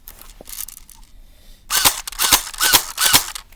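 Live gunfire from an M4 rifle and a Glock 19 pistol: a quiet stretch with a faint click, then a run of four or five sharp, loud shots in a quick, roughly even rhythm.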